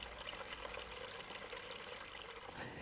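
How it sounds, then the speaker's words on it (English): Water runs steadily through a garden water feature on a cold winter day, a soft continuous trickle and splash close by that holds even for a few seconds, with no voices over it. "the water in the water feature hasn't frozen"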